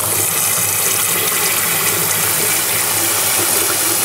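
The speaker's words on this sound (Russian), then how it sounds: "перекидываем в мойку и включаем ледяную воду." Ice-cold tap water runs hard into a kitchen sink over boiled quail eggs, a loud, steady rushing splash with no break throughout.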